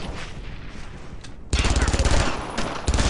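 Sustained rapid gunfire in the World War II shooter Brothers in Arms, loud and close, with a dense burst that swells halfway through and keeps going as automatic fire.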